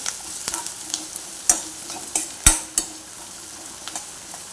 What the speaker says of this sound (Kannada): ಈರುಳ್ಳಿ ಬೆಳ್ಳುಳ್ಳಿ ಶುಂಠಿ ಕಾಯಿಮೆಣಸು ಎಲ್ಲ ಒಟ್ಟಿಗೆ ಹಾಕಿ ಫ್ರೈ ಮಾಡ್ತಾ ಇದ್ದೇನೆ